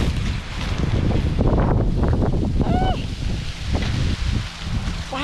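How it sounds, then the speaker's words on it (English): A strong gust of wind sweeps through an outdoor garden, loud, blustery rumbling that buffets the microphone and swells and eases over several seconds, with a brief chirp partway through. "Wow, that's a serious gust."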